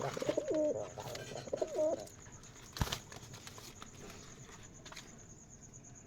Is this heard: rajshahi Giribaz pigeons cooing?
yes